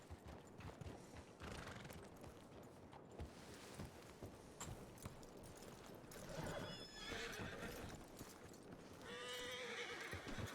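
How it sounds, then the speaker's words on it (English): A horse in a Red Dead roleplay video game neighs and whinnies several times while hooves clip-clop in uneven bursts, fairly close, alongside other game ambience. "That horse has been there forever."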